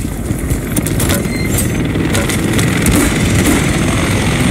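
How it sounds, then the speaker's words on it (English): Helicopters arriving in Call of Duty Modern Warfare 3, a steady loud rotor and engine roar that holds constant throughout, with no voices. "More helos inbound"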